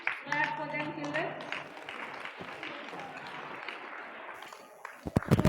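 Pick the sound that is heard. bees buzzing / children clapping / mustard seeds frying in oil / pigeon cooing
children clapping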